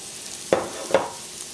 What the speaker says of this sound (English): In goes that okra,